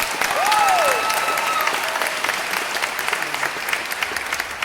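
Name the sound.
audience applause for performing arts students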